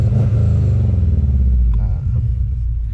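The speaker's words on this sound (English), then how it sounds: "Give it a couple of revs." Subaru Impreza Outback Sport GF8 with a small engine and aftermarket exhaust, revved briefly from idle; a loud, close low rumble swells and settles over three seconds.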